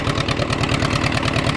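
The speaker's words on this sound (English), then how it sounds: "fire the van up, see if it holds pressure. Well, we got it running." A van's engine idles steadily after being started, running with a close, even rhythmic chug throughout, with no talking over it.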